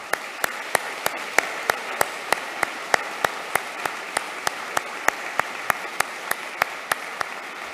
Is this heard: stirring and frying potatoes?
no